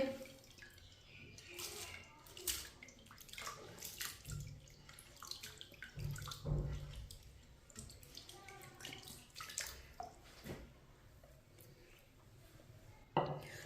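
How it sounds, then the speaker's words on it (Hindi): Water splashes and trickles as it is poured into a pot for cooking masoor dal, with intermittent clinks and a low rumble in a quiet kitchen. "4 गिलास मैंने पानी डाला है इसमें।"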